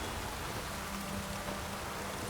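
Steady rain downpour in the video game The Witcher 3, a soft, even hiss of falling water with no breaks, fairly quiet and continuous throughout.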